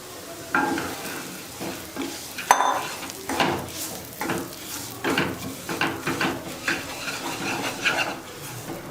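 Samba rava semolina is stirred and fried in ghee, giving rhythmic scraping strokes of a spoon against the pan over a light sizzle, with occasional knocks on the metal.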